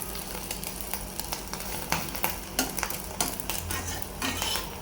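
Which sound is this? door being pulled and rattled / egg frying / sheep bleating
egg frying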